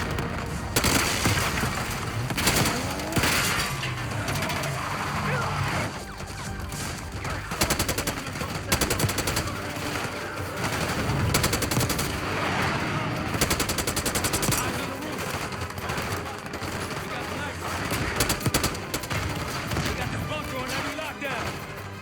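Heavy gunfire in a Black Ops 6 cutscene during an assault on a palace gate: sustained automatic bursts and booming shots fill the whole stretch, loud and dense, with voices shouting over the battle.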